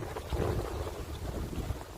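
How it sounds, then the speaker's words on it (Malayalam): Cold wind blows hard over the sea beside a fishing boat under a dark, cloudy sky, a rough low rumble of gusts buffeting the microphone, steady and close, with no voices. "നല്ല തണുപ്പം കാറ്റടിക്കുന്നുണ്ട്."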